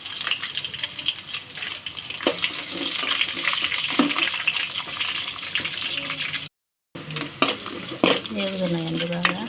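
Chopped onions fry in a pan for Bombay rava upma, giving off a continuous crackling sizzle with occasional stirring scrapes, broken by a brief silent gap and followed by a short voice near the end.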